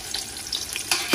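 Hotdog pieces frying in a little oil, a close, steady sizzle with crackling bursts and a brief stir or scrape near the end.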